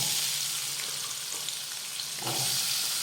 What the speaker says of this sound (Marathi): तर आपलं तूप गरम झालं की आता यामध्ये एक मध्यम आकाराचा बटाटा साल काढून अशा त्याच्या फोडी करून घेतलेल्या आहेत ते घालूयात